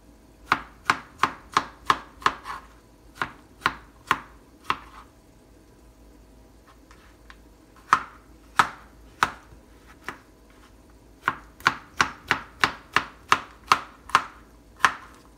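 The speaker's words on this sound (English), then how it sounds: "Chopped my tomatoes, and now I'm chopping my avocado." A knife chops tomatoes and then avocado on a cutting board: a quick run of crisp, close taps, a pause, a few more strikes, then another fast burst of chopping near the end, with no talking.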